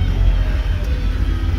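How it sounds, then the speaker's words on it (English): Busy midday street traffic in Medellin, Colombia, a steady low rumble of engines and passing vehicles close by, with no voices. "Traffic everywhere."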